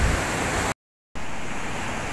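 Ocean surf washes onto a beach in a steady, broad rushing roar, heard at a moderate distance. A brief silent dropout interrupts the sound partway through.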